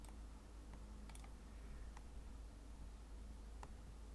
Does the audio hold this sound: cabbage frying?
no